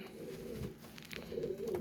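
Low, throaty cooing from pairs of pigeons for sale in Faisalabad rolls in soft repeated bursts, close by, swelling louder toward the end.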